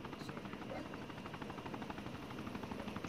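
Military medical helicopter coming in to land in the video game ArmA, its rotor chopping in a steady rapid rhythm at moderate distance throughout.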